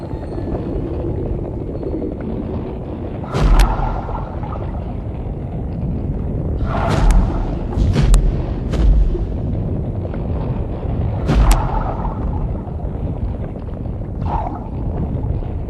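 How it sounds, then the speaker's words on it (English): Lava pouring into the ocean at the shoreline where the island grows: a steady, broad rumbling roar with intermittent sharp bursts and hissing flares, wind buffeting the microphone throughout. "Where the lava flows into the ocean, the island grows."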